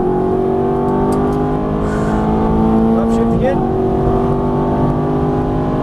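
A Ferrari F430 on a Las Vegas track pulls hard after an upshift, its engine roaring loud and steady from inside the car with a brief dip at the shift, while an instructor talks over it.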